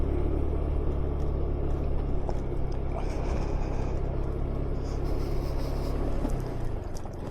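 A car rolling along a gravel track up in the hills, a steady close rumble of engine and tyres on loose stones that runs without pause, easing slightly near the end.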